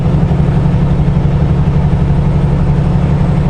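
Heavy truck engine droning steadily in 9th gear at about 51 mph while bogging down at high RPM, a loud, constant low rumble with no talk over it.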